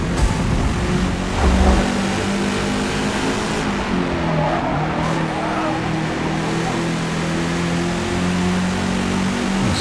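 A race car engine in Forza Motorport revs and holds a strong, buzzy drone, loud and close, with shifting pitch and a brief tire-like scrape early on.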